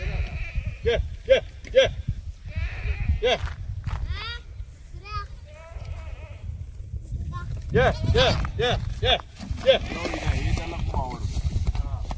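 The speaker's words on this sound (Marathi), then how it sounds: "तेव्हा त्यांची पिल्ल राहिली ते ओरडतायत बघ असे" Young goat kids bleat in repeated short, high cries, some close and some further off, at a village home. People talk in the background.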